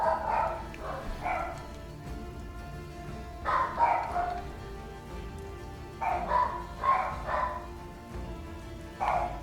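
A dog barks in repeated short bursts, a pair, then a cluster of three, then several more, moderately close and loud, over a steady low background hiss like rain during a game of Battle Brothers Reforged.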